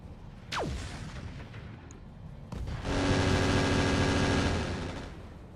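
Heavy weapons fire from a combat mech in RogueTech, with a Gauss rifle, air-to-ground missiles and a guided bomb: a sharp whooshing launch, then a brief lull, then a sustained loud roar of blasts and explosions that slowly fades.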